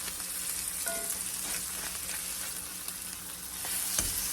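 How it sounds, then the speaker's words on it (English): Fish pieces sizzle steadily in hot oil in a frying pan after being flipped, a continuous close hiss with faint pops and a slight swell near the end. "we are going to flip the fish. And cook it on the other side"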